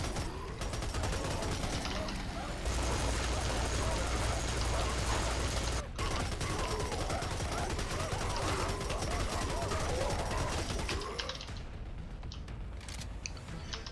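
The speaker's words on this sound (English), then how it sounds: "I like the model of the Tommy gun a little bit better, and though the firing sound isn't really spectacular" A Tommy gun fires in the Unlanded shooter game, dense rapid bursts of automatic gunfire near and loud, with a brief gap and a quieter tail at the end.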